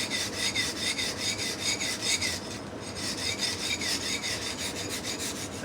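A knife blade rasps back and forth across a sharpening stone in a homemade guided knife sharpener, making long, even, scraping strokes in a steady rhythm, close and loud with no voices.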